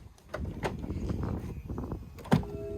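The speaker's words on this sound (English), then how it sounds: "unlock Mickey, open the doors" A car's doors are unlocked and opened: a few sharp mechanical clunks and latch clicks spread across a couple of seconds, with a distinct louder thump near the end.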